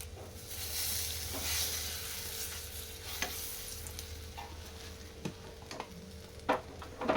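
Shahi jeera and whole spices sizzle in hot oil, a steady fizzing hiss with occasional sharp pops and clicks from stirring, close and moderately quiet, no voices.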